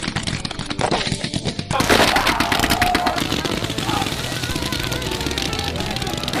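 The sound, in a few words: fireworks going off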